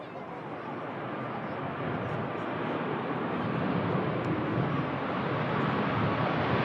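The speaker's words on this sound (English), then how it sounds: "Beautiful touchdown from the Ryanair." A Ryanair airliner touches down on a runway, heard as a steady, broad roar of engine and rushing air. The sound builds slightly louder over several seconds from a moderate distance.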